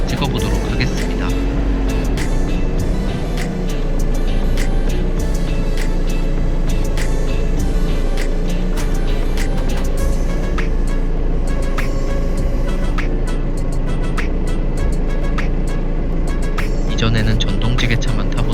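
A diesel forklift engine runs steadily and loud at close range, a constant rumbling drone, with someone talking over it throughout.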